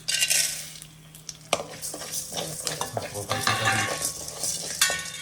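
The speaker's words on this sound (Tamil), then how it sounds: "மல்லி சோம்பு சீரகம் மிளகு சிம்மில் வச்சுட்டு" Coriander seeds, fennel, cumin and pepper scrape and rattle as they are stirred in a dry pan on a low flame, with a faint sizzle and occasional clinks of a utensil against the metal.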